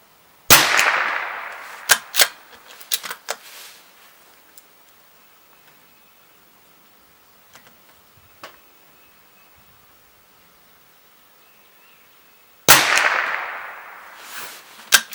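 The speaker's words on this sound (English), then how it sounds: "Now I'm gonna settle in and try to shoot instead of this stuff." Two sharp, close reports from a CZ457 .22lr rifle firing Eley Club ammunition, one near the start and one near the end, with faint clicks and handling noise in the quiet between them.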